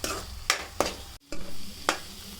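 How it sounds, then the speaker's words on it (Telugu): Ginger garlic paste and onions frying in a pan for paneer curry, with a steady sizzle broken by several sharp stirring scrapes, close and fairly loud, and no talking. "ఇది పచ్చివాసన పోయేంత వరకు ఫ్రై చేసుకొని."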